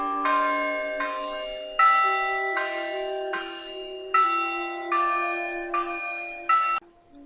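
Church bells ring at Mission Carmel in a steady, sonorous peal, one tolling strike after another with long ringing overtones that overlap before fading at the end.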